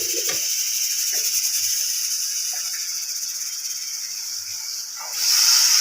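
Water poured into a hot pan while cooking chickpeas, giving a loud, steady steam hiss that holds throughout and swells louder at the end.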